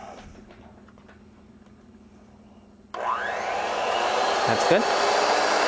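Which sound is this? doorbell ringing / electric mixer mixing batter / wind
electric mixer mixing batter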